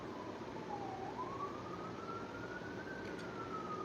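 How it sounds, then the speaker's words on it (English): Police or emergency siren sounding through New York City streets, a single wailing tone slowly rising and falling over steady traffic and city rumble, moderately distant and continuous. "I know you hear the sirens, New York Tings."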